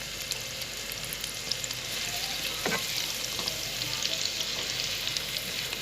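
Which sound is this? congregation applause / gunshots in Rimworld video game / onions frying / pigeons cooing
onions frying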